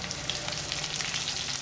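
Cumin and chillies fry in hot oil in a heated kadai, giving a steady, close, crackling sizzle with no talk.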